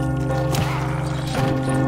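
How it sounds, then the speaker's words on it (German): A bell in the Lego Marvel Super Heroes video game rings twice in a steady, resonant, sustained toll with a strong hum, each strike clearly audible and fairly loud. "bei einer Glocke würde ich auch Ohrenschmerzen bekommen"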